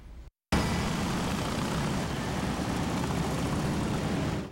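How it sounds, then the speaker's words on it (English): A steady, loud engine rumble drones on after a brief cut of silence, like motorcycle exhausts idling or passing nearby during a memorial motorcycle ride. "Members hope you'll hear the exhaust and think about Bradley Beard."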